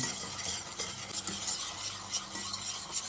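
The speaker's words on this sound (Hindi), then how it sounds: "इसी तरह इसमें चम्मच चलाते रहेंगे" A spoon stirs thickening makhandi suji halwa in a pan with steady scraping strokes, close and quiet, over a soft sizzle from the cooking sugar mixture.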